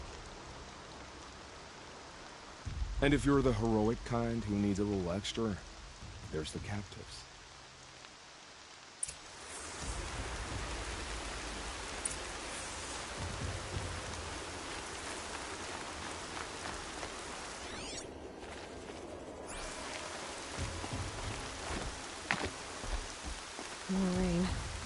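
Steady rain falls across the world of the video game Horizon Zero Dawn, a broad hiss of drops on surfaces that runs almost throughout, with a sung or spoken voice early on and speech passing over it.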